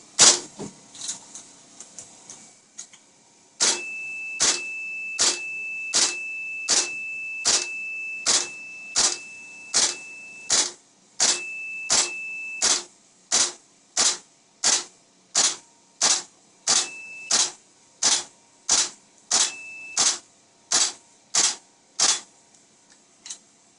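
BBs being loaded into a GHK AK-74 airsoft magazine: a long run of sharp, evenly spaced clicks, close and fairly loud, with a brief ringing tone under some stretches and no talking.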